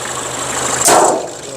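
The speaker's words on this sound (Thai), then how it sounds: "เสียงเครื่องเพาะๆนะครับผม" A Toyota Mighty-X extra-cab pickup truck engine idles with a steady low rumble, and a brief rushing swell breaks in partway through.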